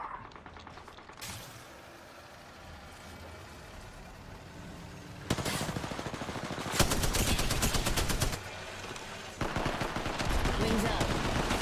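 Rapid video game gunfire coming in dense automatic bursts, quiet at first and then loud from about the middle onward, with a few short gaps between the volleys.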